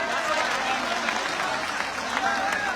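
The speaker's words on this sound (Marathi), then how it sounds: "सर्व मराठा समाजाचे एकदा जोरदार टाळ्या वाजवून स्वागत" A crowd at a large Maratha community assembly in Antarwali claps loudly and steadily, a dense wash of applause that fills the whole moment without pause.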